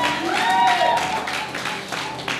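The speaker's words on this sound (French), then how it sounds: "Tu peux applaudir mieux que ça pour le Seigneur." A church congregation applauds during a worship service, a loud, full crowd clapping with a short sung or spoken voice over the start, continuing steadily throughout.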